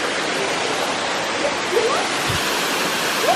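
Steady, full roar of a waterfall in the Blue Mountains of Jamaica, a dense continuous rush of falling water heard close and loud with no gaps.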